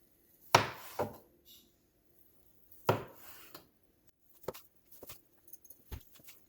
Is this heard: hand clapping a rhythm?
no